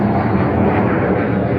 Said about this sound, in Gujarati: અહીંયા જો પ્લેન ચાલુ જ હોય.